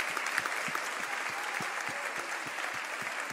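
A church congregation applauding, steady dense clapping filling the room with a few distinct louder claps standing out near the front, no talk over it.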